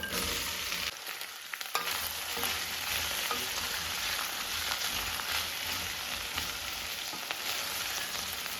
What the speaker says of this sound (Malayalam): അപ്പോൾ അത് വറുക്കാനായിട്ടിടാം